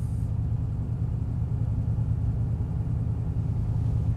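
Engine of a 1964 Cadillac Coupe De Ville, rough and running rich, rumbling steadily at a low, throbbing idle close by, with no voices.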